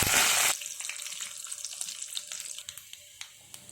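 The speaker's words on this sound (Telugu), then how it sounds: "పోపు ఎగిపోయింది." Mustard seeds, chana dal, urad dal, cumin, dried red chillies, curry leaves and turmeric splutter in hot oil for tempering: a loud hissing burst at first, then scattered pops and crackles over a quieter sizzle.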